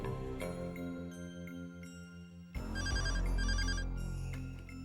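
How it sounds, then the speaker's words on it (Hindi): A telephone rings in repeated bursts, with a steady tone pattern and a louder, fuller ring in the second half. "ये रजन लाल का फोन तो अभी तक आ जाना चाहिए था।"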